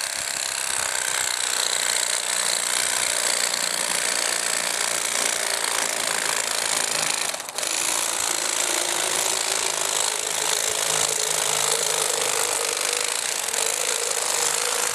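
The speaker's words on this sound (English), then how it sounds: "This is the 9-inch E-Flex blade, and it's taking a little effort to get through the ribs." A 9-inch E-Flex electric fillet knife buzzes loud and close without letup while cutting through the ribs of a striped bass, with one brief dip in its steady drone.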